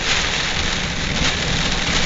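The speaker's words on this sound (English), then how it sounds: "I thought the storm was gone, but it seems to be just passing over us now" Heavy rain falls steadily during a passing thunderstorm as a dense, even hiss with no breaks and no voices.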